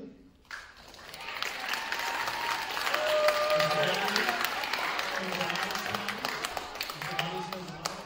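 Sustained audience applause in a school auditorium, a dense crowd of clapping hands swelling after a brief quiet start and holding steady, with some voices mixed in.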